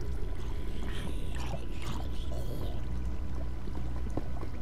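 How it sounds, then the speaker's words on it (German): Water flowing in Minecraft, a continuous rushing, pouring wash of water that stays loud and steady throughout with no voices. "Wasser."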